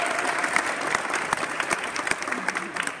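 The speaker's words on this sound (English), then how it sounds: "So give yourself a nice round of applause." Applause from an audience at a Stop Hunger Now meal-packing event in Monrovia, an even, dense patter of many hands clapping at moderate volume without pause.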